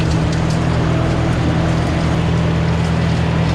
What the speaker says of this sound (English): I gotta remember, I got a pretty big mower here